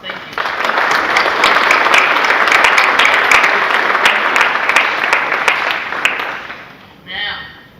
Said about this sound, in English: a round of applause for all of those folks